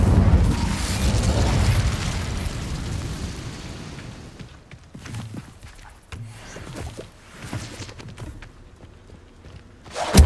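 An Incendio fire spell in Hogwarts Legacy goes off as a loud, roaring whoosh of flame that fades over a few seconds, followed by quieter scattered clatter and thumps.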